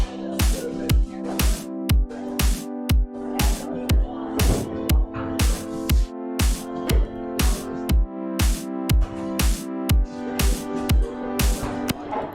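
A steady electronic beat with a kick on every count; sustained synth chords duck and swell back after each hit, producing a rhythmic pumping effect.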